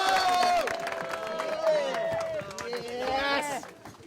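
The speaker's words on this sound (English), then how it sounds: "So a nice big round of applause" A film crew on set cheers, whoops and applauds at the wrap of The Inbetweeners 2, a loud, close burst of many overlapping voices and clapping that fades slightly toward the end.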